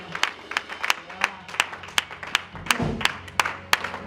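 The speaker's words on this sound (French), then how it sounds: "Nous pouvons encore applaudir le Saint-Esprit." Church congregation applauding during a worship service, with sharp, evenly spaced claps that fall into a steady rhythmic beat and sit over a low hum of room noise.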